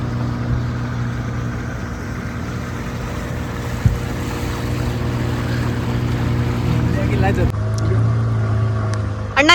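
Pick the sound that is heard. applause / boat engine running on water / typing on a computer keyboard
boat engine running on water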